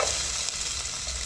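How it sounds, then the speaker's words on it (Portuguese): Onion sautés in a hot pan for strogonoff pizza filling, giving a steady, close, bright sizzle throughout with no voices. "Primeira coisa é já aquecer a panela e refogar a cebola."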